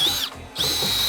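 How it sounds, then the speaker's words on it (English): A Milwaukee M18 subcompact hammer drill bores into lumber with a loud, steady high whine, dipping briefly mid-burst before spinning back up to full speed. "we have the subcompact drill. It's also a hammer drill"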